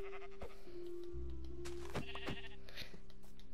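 Sheep in the Minecraft video game bleat a few times in short, wavering calls, close and fairly quiet, over a steady background tone and game noise.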